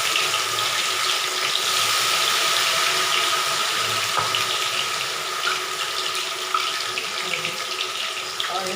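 A whole batch of soybean manchurian fries in hot oil over a low flame, giving a dense, continuous sizzle and crackle close by that holds steady throughout, with no talking.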